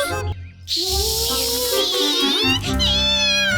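A frightened cartoon cat meows in a drawn-out, wavering cry with a sliding, whiny pitch, close and loud against an animated soundtrack, in a kids' cartoon scene where the cat is scared of a mouse.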